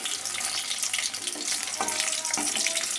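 Chicken pakora frying in hot oil, a steady, close hiss and sizzle with occasional soft bubbling pops and no voices.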